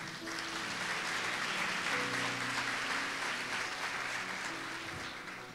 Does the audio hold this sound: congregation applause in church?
yes